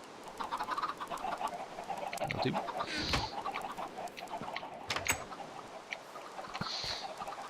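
Chickens cluck in a video game world, soft scattered clucks and bird calls over a noisy ambient bed, with a brief spoken remark.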